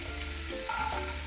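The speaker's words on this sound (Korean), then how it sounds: "야채를 볶아줍니다." Vegetables stir-fry in olive oil in a hot pan, giving a steady, close sizzle with a soft shift as the pieces are moved partway through; no talking.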